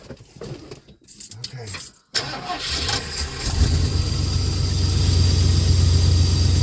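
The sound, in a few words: engine cold start with an Edelbrock carburetor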